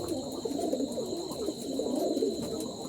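Male pigeons, a group of Jalali (Jalali-breed) cocks roosting together in a loft, coo steadily and overlapping in a continuous, close, murmuring chorus with no talk.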